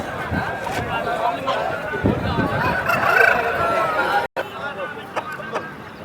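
Roosters crow and cluck amid a busy Friday rooster market at Nallapadu, the calls rising over a hubbub of voices. Someone talks nearby throughout.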